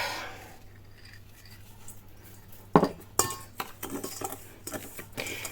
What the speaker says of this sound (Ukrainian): Тепер це добре перемішуємо.